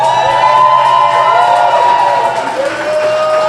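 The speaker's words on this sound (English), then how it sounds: "give y'allself another clap for y'allself" Audience at a tax business bootcamp cheering and shouting in a loud, continuous wash of voices, with little distinct clapping audible and no single speaker standing out.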